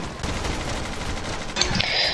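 A World War II Russian machine gun in the game Ravenfield fires sustained bursts of rapid, even shots, steady and fairly loud for two seconds, with a sharper crack of other gunfire near the end.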